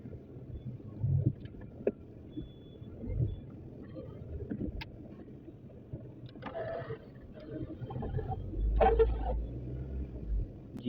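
A car engine idling and rumbling as it is parked indoors after trouble starting, low uneven drone with occasional knocks and clatter, louder toward the end.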